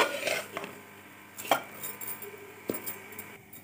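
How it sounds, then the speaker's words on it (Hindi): Semolina halwa being stirred in a pan, a spoon scraping and clinking against the metal in a few sharp strikes over soft background scraping, close up. "और इसे इसी तरह चलाते रहेंगे ताकि ये जले ना।"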